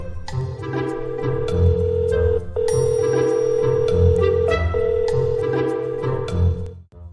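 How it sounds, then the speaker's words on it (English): A telephone rings in repeated long tones, a clear steady electronic ring with brief gaps between rings, loud and close, lasting about seven seconds. "Billy rang Bobby"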